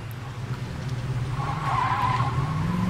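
A car in Saints Row 2 drives with a low engine drone, then its tires break into a squealing skid for the second half, loud and close.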